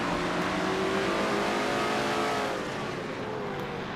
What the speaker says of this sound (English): Now from inside Levi McIntyre's car number 60